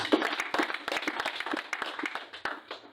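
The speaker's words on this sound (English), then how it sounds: "Clap for Jesus Christ." A church congregation claps in a loose, uneven patter of distinct hand claps, close and moderately loud, lasting a few seconds.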